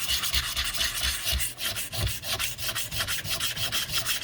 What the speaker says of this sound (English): or as I sand it.